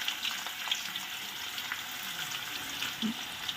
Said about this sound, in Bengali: পুরো পেঁয়াজটা কিন্তু তেলেতে দিয়ে দিচ্ছি